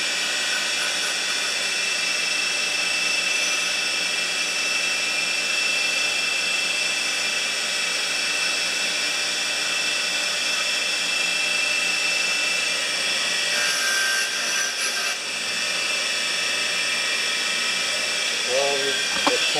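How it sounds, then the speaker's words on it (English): A small grinder whines steadily and closely as it takes a tiny amount off the intake valve of a 4HP Briggs tiller engine. The high pitch holds for nearly twenty seconds, with brief handling noise near the end. "I am just going to take the smallest amount off this intake valve"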